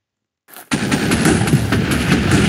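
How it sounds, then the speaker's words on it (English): A massive explosion set off by a creeper shard in the Minecraft Mutant mod bursts in loud and close after a brief lead-in, then rumbles on as a dense, crackling roar with no talk. "When you use this, it creates a massive explosion."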